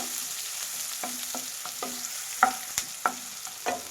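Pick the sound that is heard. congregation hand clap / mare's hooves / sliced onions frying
sliced onions frying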